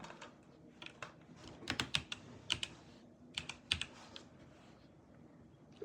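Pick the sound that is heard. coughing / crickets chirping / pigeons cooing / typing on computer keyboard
typing on computer keyboard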